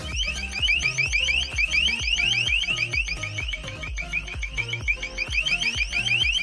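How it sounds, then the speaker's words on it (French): An LRAD long range acoustic device sends out a loud, piercing alarm tone, a continuous high warble pulsing rapidly and steadily, layered over a rhythmic low throbbing pattern throughout. "Cet outil polyvalent peut envoyer des messages d'alarme sonore et disperser des émeutes."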